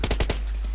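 Rapid automatic gunfire from the PUBG Mobile battle royale game, four quick, loud, evenly spaced shots in a tight burst that then stops abruptly.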